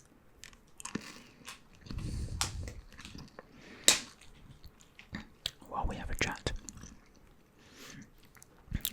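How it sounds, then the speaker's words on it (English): Gum is chewed up close in ASMR style, with moist, crackly smacks and crunches in irregular bursts under soft whispered talk. "I know that for some, chewing sounds are not very nice"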